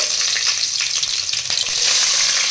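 Slit green chillies dropped into a generous amount of hot oil for a Kaju chicken masala curry, giving a loud, continuous close-up sizzle and crackle that swells near the end.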